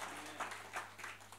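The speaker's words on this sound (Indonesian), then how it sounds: "Ayo beri tepuk tangan kepada Tuhanmu yang begitu luar biasa." A church congregation at a Sunday service claps in faint, distant bursts of uneven applause that last briefly.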